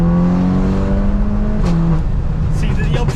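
A Stage 2 VW Golf R MK8 with valved exhaust accelerating hard, its engine note climbing and shifting through gears, loud and close from inside the car under a steady broadband roar.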